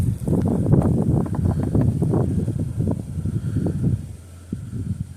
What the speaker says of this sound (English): the wind has picked up since the last hour I was out here